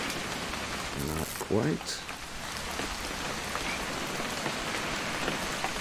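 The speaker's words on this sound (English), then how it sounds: "It's going to rain the whole weekend, isn't it?" Steady rain pours on surfaces throughout a scene in the video game What Remains of Edith Finch, a constant hiss under brief spoken lines.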